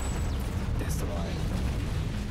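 A destroyed target explodes in Armored Core 6 as a dense, roaring burst of broadband noise that fills the whole moment. Voices talk over it.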